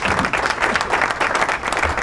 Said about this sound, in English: You get a small hand clap.